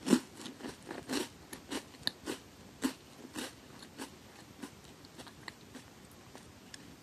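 Crisp bites and crunchy chewing of a thin chocolate wafer, a Monster Strike card wafer snack, heard close up as a series of sharp irregular crunches that fade into softer chewing, with no talking.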